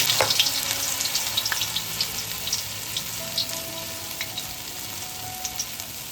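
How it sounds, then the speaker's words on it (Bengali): Batter-coated jute leaves frying in hot mustard oil in a kadai: a continuous close sizzle with soft crackles and pops, steady throughout. "এবার আমরা পাট পাতাগুলো ভেজে নেব।"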